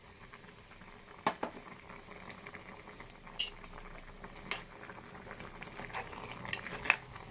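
A pot of water for vangibath upma bubbles at a low simmer, with soft continuous burbling dotted by faint metallic clinks and light knocks of a utensil against the pot.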